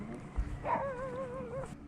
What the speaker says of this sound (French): Et là-bas, ils nous ont vus de loin et nous aboient déjà dessus.